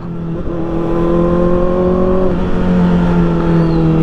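Near and loud, a sportbike with a Spanish-made IXIL slip-on exhaust revs up and holds a rising, sustained engine note, then dips briefly and climbs again.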